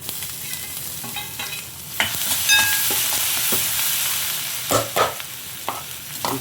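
Chana dal fries and sizzles in a pan, with a steady crackle broken by scraping stirs and clacks of a spoon against the pan, close and alone without talk.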